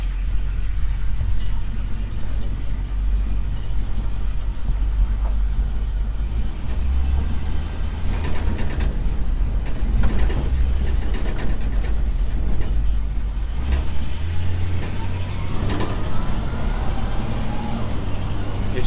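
A 1971 Chevy C10 pickup engine drones steadily on a test drive, its pitch shifting as the truck changes gears, heard from inside the cab with some low rumble and road noise.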